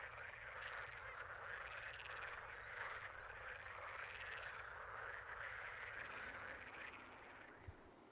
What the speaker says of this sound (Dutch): Het gekwaak van de groene kikkers stopt en de boomkikkers nemen het over.